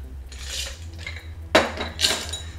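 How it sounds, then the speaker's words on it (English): Cocktail poured through a julep strainer into a glass, with light metallic clinks and scrapes of the strainer against the rim, close and quiet. "Let's use our julep strainer and strain it in."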